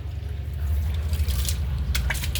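Hot water is poured in a home kitchen, giving a steady, close splashing and trickling stream over low background hum, with a few brighter splashes near the end.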